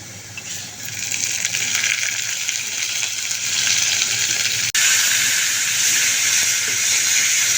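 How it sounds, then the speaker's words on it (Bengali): Ground spice paste frying in a pan over golden-brown onions for a spicy egg bhuna, making a loud, steady hiss that runs without a break, with no talking. "আমি দিয়ে মশলাটাকে ভালো করে কষিয়ে নিচ্ছি"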